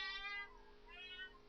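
A cat meows twice indoors, two short tonal calls close to the microphone, the second slightly softer, over a quiet room hum with no talking.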